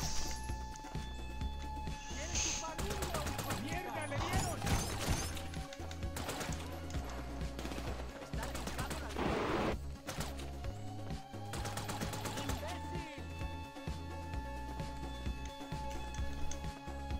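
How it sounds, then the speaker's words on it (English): Machine gun fire in the GTA V video game, dense overlapping bursts and crashes of gunfire through a busy, loud game mix with faint voices underneath. "Might use the machine gun a bit first."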